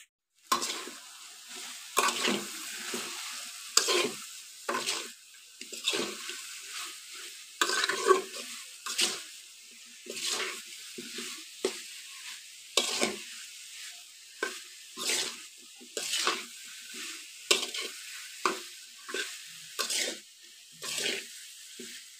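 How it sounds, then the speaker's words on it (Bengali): A spoon scrapes repeatedly around a pan as chalta (elephant apple) pickle is stirred with fried spices. The strokes come in a steady rhythm of close, distinct scrapes over a low sizzle. "এর মধ্যে এবার এই যে ভাজা মশলাগুলো দিয়ে দিলাম"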